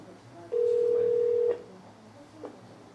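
A single long telephone ringback tone sounds after dialing a wedding hall in Busan, a steady one-second beep fairly close, followed by quiet line noise and a faint click.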